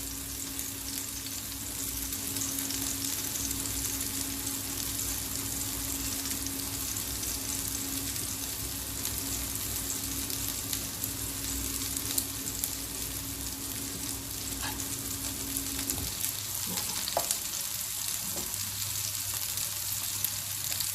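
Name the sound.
turkey kebabs frying in oil on low flame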